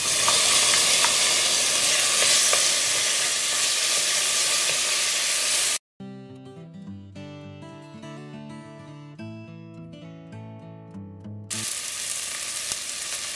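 Onions and tomatoes frying in a pot for a Goan meat stew give a dense, steady sizzle. It breaks off for several seconds of music, then the sizzling returns loud and close.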